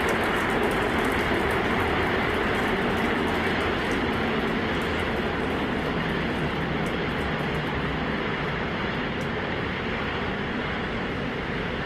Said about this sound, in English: 33 Raptor engines powering the first stage.